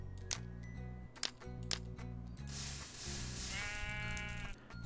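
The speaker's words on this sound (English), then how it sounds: "New sounds were added when you shear sheep." Sheep bleats and snipping shear sounds from Minecraft play over a steady game music background, with a broad hissing sweep partway through and a wavering bleat-like call near the end.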